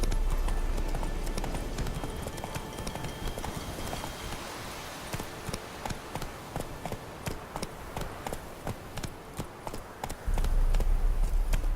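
Roach, the horse in The Witcher 3, gallops with quick, steady hoofbeats in a clear clip-clop rhythm, close and prominent over low game ambience, with no talk.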